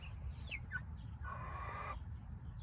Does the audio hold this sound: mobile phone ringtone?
no